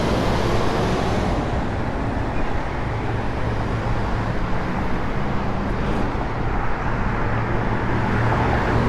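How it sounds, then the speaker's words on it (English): A big noisy truck passes on a downtown street, its loud, steady engine roar and road rumble filling the whole stretch close by. "Another big noisy truck."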